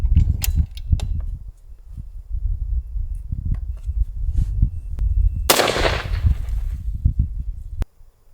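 A Cheytac M200 Intervention rifle fires a single loud, sharp shot outdoors, followed by a brief rushing blast tail. Before it come low rumbling handling and wind noise, and a short click sounds near the end.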